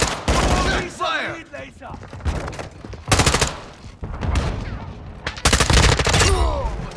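Rapid bursts of automatic gunfire in Call of Duty Modern Warfare II, loud and close, coming in several separate volleys with brief pauses, layered with explosions and game effects.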